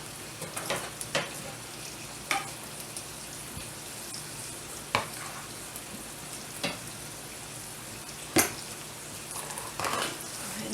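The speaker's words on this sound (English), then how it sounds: "This bacon being so fat, it's going to take a little while, but I don't want to cook it too fast." Fatty bacon sizzles in a pan with a steady, close frying hiss, punctuated by occasional sharp clicks and scrapes of a utensil against the pan, no talking.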